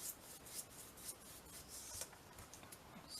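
A brush rubs gesso lightly onto paper with faint, soft scratchy strokes in a loose repeating rhythm, quiet and close with no other sounds.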